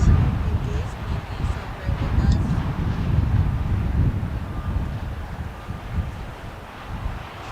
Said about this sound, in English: I know our equipment is bubbling around here quite a bit. It is windy, so bear with us.